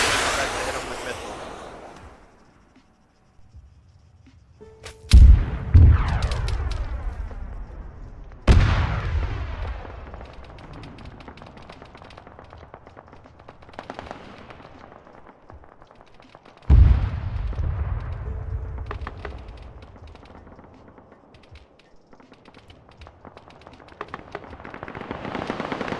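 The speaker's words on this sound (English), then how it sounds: "Yes, we're being shot at." Gunfire in Arma 3 during a heavy firefight: several loud, sharp bursts and blasts with long echoing tails, separated by quieter stretches of distant crackling shots.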